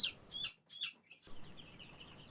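Young chicks of a laying hen breed chirp in short, high bursts, a few quick peeps close by with brief quiet gaps between them.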